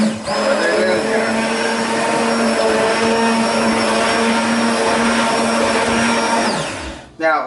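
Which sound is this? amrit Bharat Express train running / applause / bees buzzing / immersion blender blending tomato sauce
immersion blender blending tomato sauce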